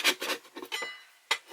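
Old material is scraped off a floor with a hand tool in a few short, close rasping strokes separated by brief pauses, quiet with no voice.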